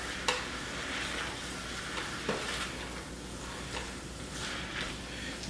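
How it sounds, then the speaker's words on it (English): Eggplant caponata being stirred in a hot, sizzling pan, steady low crackle with a few sharp spoon scrapes and knocks against the pan at irregular intervals, close and unaccompanied by voices. "We'll give it a good stir."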